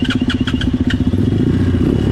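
A motorcycle engine runs close by, loud and steady with a pulsing low throb and some rattling clatter, with no talk.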